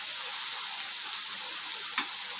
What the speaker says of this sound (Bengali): এবার আমি এর মধ্যে রসুন কুচিটা অ্যাড করে দেবো